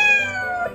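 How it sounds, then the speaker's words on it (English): A cat meows in the Daycare video game, one short drawn-out meow that dips in pitch, close and clear with no voices over it. "Oh, hey, kitty cat."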